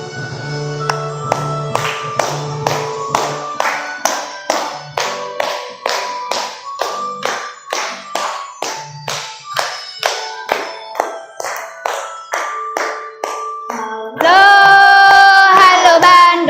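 Standing in class, children sing the Indonesian national song Halo Halo Bandung, clapping in a steady beat throughout, with a louder held passage near the end.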